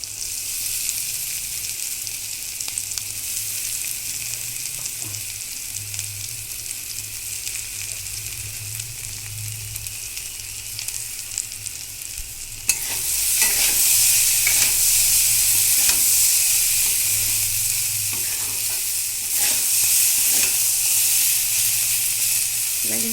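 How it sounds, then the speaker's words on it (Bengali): Soaked flattened rice (chira) frying and being stirred in a pan, a steady hiss that jumps louder midway as the rice goes in, followed by close sizzling with scattered scraping strokes of a spatula. "দিয়ে তারপর নেড়ে চেড়ে ভেজে নিতে হবে।"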